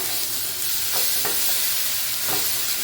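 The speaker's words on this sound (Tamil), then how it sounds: "இப்போ மறுபடியும் எல்லாத்தையும் நல்லா வந்து மிக்ஸ் பண்ணி கொடுங்க" A ground onion and cashew masala paste for egg gravy sizzles steadily in a pan, broken by a few soft spoon scrapes as it is stirred, and no one speaks.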